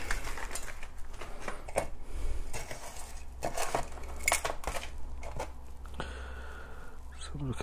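Plant pots knocked and handled while repotting young tree seedlings, giving a run of light, close clattering taps and knocks, with occasional louder bumps scattered through.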